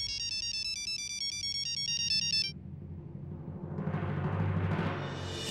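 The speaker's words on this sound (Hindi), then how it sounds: "हां भाभी जी का फोन।" A phone ringtone plays a bright, repeating electronic melody loudly for about two and a half seconds, then cuts off and leaves a softer rustling background.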